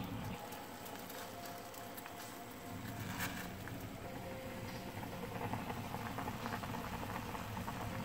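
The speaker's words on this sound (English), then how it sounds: "Here's some boiling." A pot of udon broth at a steady rolling boil, with continuous close bubbling and soft patter, fairly quiet and with no speech.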